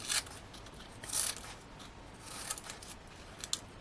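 Scissors snipping craft card pieces down to size for a Hunkydory cardmaking kit, a few quiet, close cuts with soft paper rustling between them and no talking.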